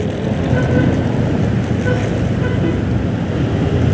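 Dense road traffic on EDSA in Manila rumbles continuously as a loud, close wash of engines and tires without letup.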